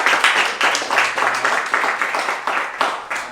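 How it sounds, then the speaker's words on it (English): An audience at a live event claps in a short round of applause, rhythmic and fairly close, fading gradually with no talking over it. "Let's give her another round of applause"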